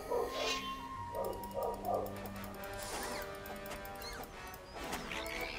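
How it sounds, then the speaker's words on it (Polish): A dog barks outdoors, somewhere beyond the nearby buildings: a few short barks and yelps, at moderate distance, mixed with other faint background sounds. "Jakiś pies szczeka na dworze."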